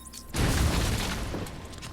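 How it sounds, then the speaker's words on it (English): Explosive gel blowing through a weak wall in a Batman Arkham video game, a sudden loud, close, deep boom with crumbling debris that rumbles on and slowly decays. "The wall ahead is weak enough for my explosive gel to blow through and open up a new path."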